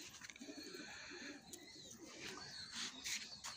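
Pigeons of a Fulshira-line pair coo softly at a distance, low murmuring calls amid faint rustling and background noise.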